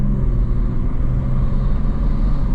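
A stage 1 tuned 420 bhp BMW M240i idles with its exhaust valves open in sport mode, giving a loud, deep, steady burbling rumble from close by without talk.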